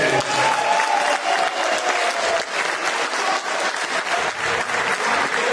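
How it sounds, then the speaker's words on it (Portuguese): A crowd applauds a band at an awards ceremony for musical bands, the clapping dense and steady throughout, with faint voices and whistles mixed into it. "uma salva de palmas para ele"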